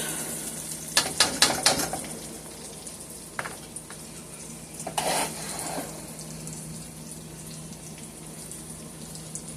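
Red snapper fries in a pan with a soft steady sizzle, broken early by a quick burst of clattering pan sounds and a later utensil scrape, then settling to a quiet hiss.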